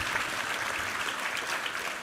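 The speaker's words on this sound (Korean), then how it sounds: "우리 하나님께 감사와 영광의 박수 올려드리겠습니다" A church congregation applauds during a Sunday worship service, a steady wash of clapping heard fairly softly from a distance, with no voices over it.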